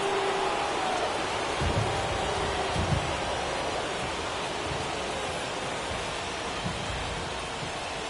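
Steady rain hisses down over a baseball stadium during an MLB game, a dense, even wash of noise that holds for the whole stretch with faint low thumps underneath.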